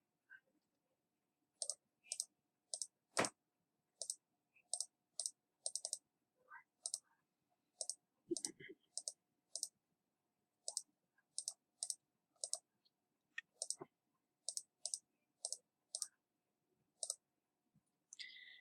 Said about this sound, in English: I type the number, then I hit Enter